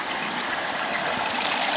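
A pool filter sends a steady, close rush of flowing water without a break.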